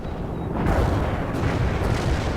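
A heavy artillery barrage rumbles in a war video game, a dense continuous roar of overlapping booms and blasts, loud and close with no clear gaps.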